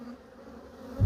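Honey bees hum softly around an open hive during an inspection, a faint, steady drone with a brief louder thump near the end.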